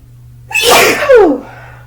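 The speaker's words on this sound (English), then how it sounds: "Sneeze again." One loud, close sneeze with a sharp intake and an explosive release that trails off into a breathy tail.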